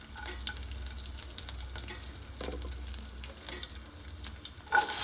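Garlic, ginger, cinnamon and cloves fry in hot oil for a soup, giving a soft, continuous sizzle with small crackles and stirring scrapes close by, and a sharper burst near the end.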